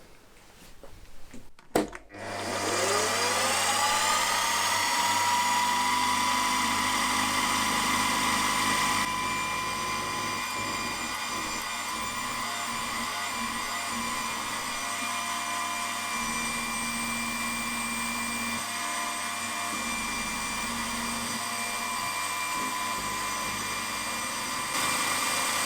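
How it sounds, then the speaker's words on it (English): A 3/16-inch end mill cuts an oil way slot in the crankshaft housing of a Jerry Howell V-twin model engine. The machine spins up, then holds a loud, steady whine, and the cutting tone shifts slightly as the slot progresses. "I need to cut this slot for the oil way, and I should be using 5/32 of an inch end mill"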